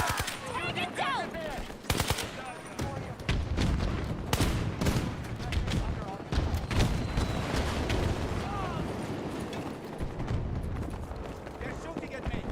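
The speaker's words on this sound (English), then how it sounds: "They're shooting at me." Video game gunfire crackles in rapid bursts and scattered single shots across the whole stretch, loud and close, mixed with heavier booms and radio-style game voices calling out.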